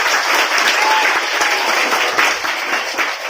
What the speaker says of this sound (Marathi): टाळ्यांच्या गजरात प्रतिसाद द्यायचा आहे.